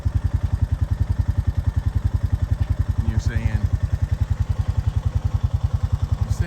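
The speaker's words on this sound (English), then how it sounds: "there's a tractor moving across your field, and it's John Deere green" A John Deere tractor crossing a hay field chugs steadily up close, its engine making a fast, even low pulse that runs throughout, with people talking over it.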